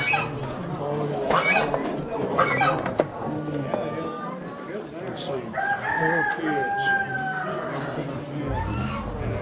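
Chickens cluck and a rooster crows amid the bustle of an Amish animal auction, with people talking nearby over the steady crowd noise and a long crow rising partway through.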